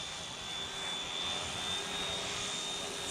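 A cheap realistic RC helicopter flying a tight circle, a steady high-pitched whine of its motor and rotor, constant and fairly close, with no talk.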